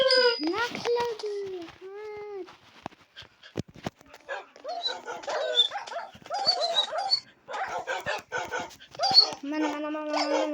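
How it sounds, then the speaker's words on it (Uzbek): Dogs bark and whimper close by, high whines and yelps at the start, then bursts of barking overlapping one another with whimpers threaded through, while people talk nearby. "Itlar."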